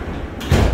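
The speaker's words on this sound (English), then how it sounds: "This is a District Line train to Upminster." A London Underground District line train standing at Dagenham East station on the route toward Upminster, with a low mechanical rumble that swells partway through, like doors or the train starting to move. The sound is close and brief, and no one speaks.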